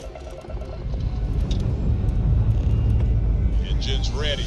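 A spaceship engine in the game Starfield gives off a deep, steady rumble that swells and holds, close and loud, with a faint whine creeping in toward the end.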